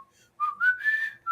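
A person whistles a tune from the Jurassic Park theme, a clear, bright melodic line of sustained and sliding notes that rises and holds, loud and close with no talking.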